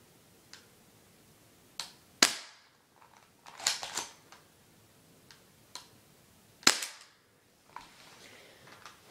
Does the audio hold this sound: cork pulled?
no